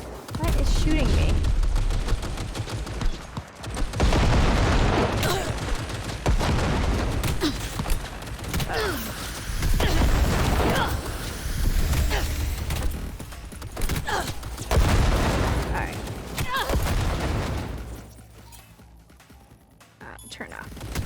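Gunfire aimed at the player in Cyberpunk 2077: dense, loud bursts of shots and rattling mechanical clatter running almost continuously, dropping off briefly near the end, with a voice reacting over the top.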